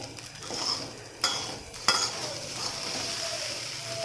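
Sabudana khichdi roasts in a pan with a soft, continuous sizzle, broken by a couple of sharp scrapes and taps of a spoon against the pan as it is stirred; close and fairly quiet.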